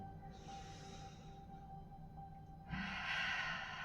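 Quiet breathing during a standing stretch workout: a soft, drawn-out inhale followed after a pause by a louder, breathy exhale, close and intimate over a low room hum.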